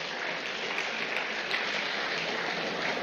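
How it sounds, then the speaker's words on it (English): An audience at a public lecture marking a democracy anniversary gives sustained, even applause, a dense crowd of clapping hands continuing without pause for the whole stretch. "I think they need a round of applause."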